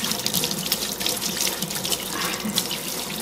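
Water runs steadily from a tap into a sink while hands are rinsed, a constant close bright hiss and splash with small fluctuations, heard alone with no talking.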